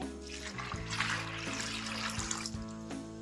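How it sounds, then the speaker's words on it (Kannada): Water is poured over masoor and moong lentils in a vessel, a continuous close trickle and gurgle without a break, soft and alone. "ಇವಾಗ ಮುಳುಗೋಷ್ಟು ನೀರು ಹಾಕೊಂತಾ ಇದ್ದೀನಿ."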